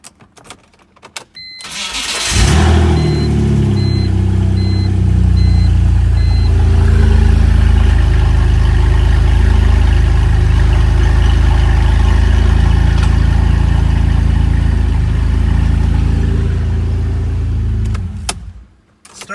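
A car starter cranks briefly and somewhat unevenly before the engine catches and settles into a loud, steady idle that runs for about fifteen seconds, then cuts off.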